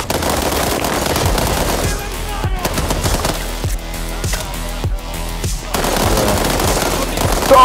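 Bursts of automatic rifle fire from an M-series rifle rattle in rapid rhythm in World War 3 game audio, with distant shots and explosions mixed in and occasional talk.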